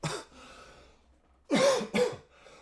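A man coughs at close range, first one short cough, then a pause, then two harsher coughs close together followed by a faint breath.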